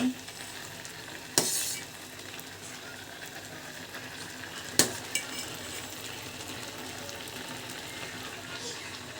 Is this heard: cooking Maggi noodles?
yes